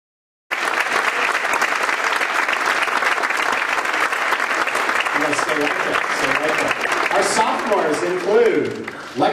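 Loud, sustained audience applause for student performers at a school show, steady dense clapping through most of the stretch with voices and cheers rising near the end.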